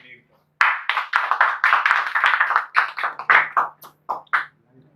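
Audience applause welcomes a speaker to the stage: a burst of scattered, uneven hand claps that gradually thins out into a few isolated claps.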